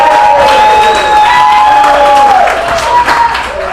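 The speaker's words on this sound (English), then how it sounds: "how about a round of applause for Dan," Applause and cheering from a live comedy show audience at an Elks lodge, a loud, dense burst of clapping with whoops, while a voice talks over it through the sound system.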